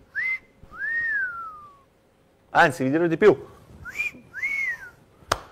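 A man whistles several short rising-and-falling notes, close and clear, with bursts of his own Italian talk between them in a jeweller's sales setting.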